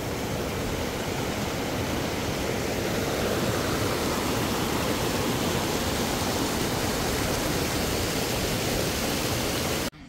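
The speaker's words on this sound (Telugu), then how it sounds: "ఇంత పెద్ద వాటర్ ఫాల్స్ ఇది సెకండ్ టైం అనమాట." A large waterfall in the Himachal Pradesh mountains roars in a dense, unbroken rush of water. It stays loud and constant for about ten seconds, then cuts off abruptly.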